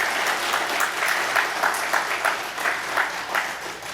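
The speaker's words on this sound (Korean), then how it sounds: "박수로 환영해 주시기 바랍니다." Applause from a Korean church congregation at a Wednesday service, welcoming guests: steady, moderately loud clapping from many hands, continuous and even with no voices over it.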